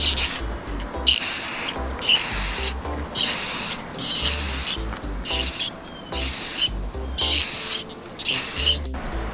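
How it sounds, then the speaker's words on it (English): Aerosol can of gloss black paint spraying a mini bike frame in repeated bursts, each hiss lasting about a second with brief gaps between, close and fairly loud with a low rumble underneath. "sprayed it with some gloss black paint so it shined a little bit"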